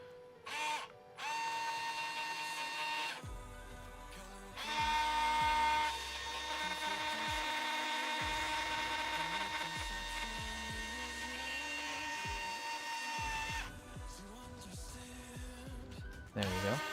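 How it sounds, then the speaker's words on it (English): An electric screwdriver drives screws into the frame of a Voron v0.2 3D printer built from a Fysetc 0.2r1 Pro kit, its motor whining in several sustained bursts separated by short pauses, close and fairly loud. "I guess we're using the electric screwdriver again."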